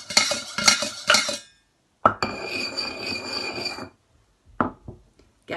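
Utensils scraping and clinking against pots and pans while mixing, with rattling bursts followed by a sustained rubbing stir and a few sharp knocks, close and clear with no talk.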